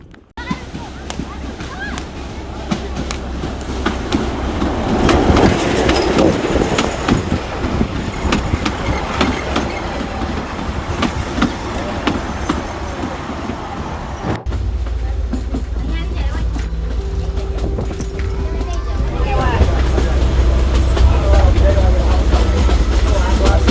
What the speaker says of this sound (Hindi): और ट्रेन अभी भी आ ही रही है।